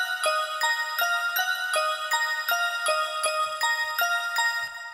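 A bright EDM trap synth melody made of short, plucked, bell-like notes repeating a simple phrase at an even pace. It plays alone and sounds clean and up front.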